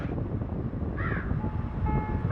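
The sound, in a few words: crow cawing in video game Granny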